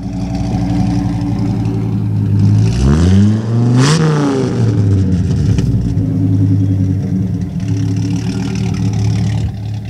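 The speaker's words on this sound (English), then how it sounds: "that sounds like plenty of power for the old school bus" An old school bus engine revs up from a steady idle, the pitch sweeping sharply up and down twice before settling back into a loud, continuous rumble close by.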